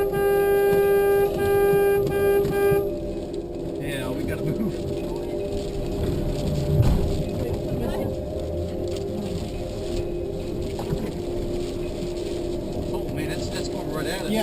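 A vehicle horn blares in a long, steady honk as a tornado approaches near El Reno, loud and close for the first few seconds. Then it stops, leaving wind, rumbling and people talking urgently.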